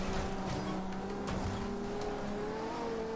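Race car engine in a racing video game held against the rev limiter, a steady buzzing drone with faint tire noise, continuous and fairly close throughout.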